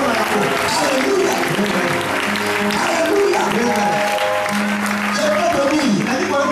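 A church congregation applauding and acclaiming God, steady loud clapping throughout with a preacher's voice and music carrying over it.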